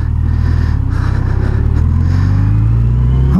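A Yamaha FJR, a heavy sport-touring motorcycle with traction control switched off, roars hard as it accelerates into a wheelie, engine pitch climbing steadily under a loud, close, continuous rumble.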